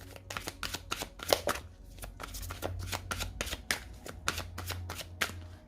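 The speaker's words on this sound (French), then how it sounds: "On va prendre une carte pour votre lien, une carte pour vous et une carte pour l'autre." Tarot cards riffled and shuffled in a steady run of sharp, crisp bursts, close and clear, with soft card handling between the riffles.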